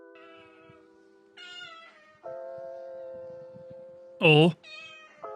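A parakeet imitates a cat, giving a series of drawn-out, harmonic meow-like calls with one loud, sweeping yowl near the end, heard close up with a brief spoken exclamation at the start.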